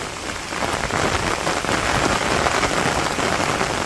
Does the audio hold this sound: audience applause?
no